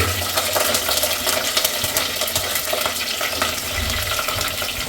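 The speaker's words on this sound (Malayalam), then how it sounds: "വെളുത്തുള്ളി ചെറുതാക്കി അരിഞ്ഞ് വെച്ചതാകണോ നേരെ ചൂടായ എണ്ണയ്ക്ക് ഒറ്റ തട്ട്" Finely chopped garlic crackles in hot oil, a bright, dense, continuous sizzle with light stirring clatter, close up and with no one speaking.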